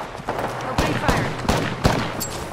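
Gunfire in the video game Apex Legends: several sharp bursts of shots at irregular intervals over a steady background of in-game noise.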